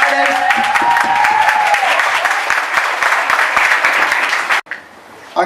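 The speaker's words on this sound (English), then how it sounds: "Can we get a round of applause for everybody who made it out here on the street for Friday?" Dense, loud applause from a street crowd gathered outdoors at a Friday community event in Watts, sustained for several seconds and then breaking off abruptly, leaving a quieter background.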